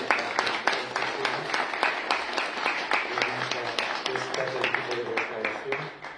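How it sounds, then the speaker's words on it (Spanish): Sustained applause from an audience at the reopening of a museum, a steady dense patter of many hands clapping that continues evenly throughout without a pause. "y le debemos un fuerte aplauso"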